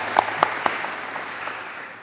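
A few sharp claps ring out near the start, then fade into a soft, diffuse patter of audience applause for panelists at a crisis response stakeholder panel held in a gym.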